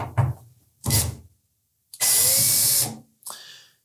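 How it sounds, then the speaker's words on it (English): A cordless power drill backs out number 2 Phillips screws from a Samsung dryer during a drum roller repair: several short whirring bursts with one longer sustained spin, close and loud, with pauses between. "Now, it's better to take these 2 screws out first. Again, number 2 Phillips head screws."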